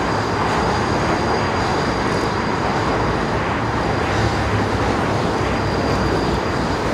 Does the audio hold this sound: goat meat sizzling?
no